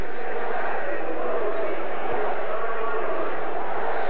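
A home crowd at a 1983 Winnipeg Blue Bombers football game against the BC Lions sends up a steady, broad roar from the stands, loud and unbroken throughout.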